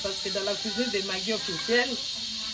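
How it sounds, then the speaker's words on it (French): A pressure cooker holding meat lets out a constant high steam hiss that runs steadily beneath someone speaking French in a kitchen. "Le bruit, vous attendez là, c'est le bruit de la vapeur."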